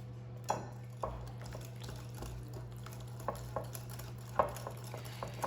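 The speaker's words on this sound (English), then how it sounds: "we're gonna get this all mixed up really well with a whisk" A whisk mixes pancake batter with sugar in a bowl, giving quiet, irregular clicks and taps against the sides over a low background hum.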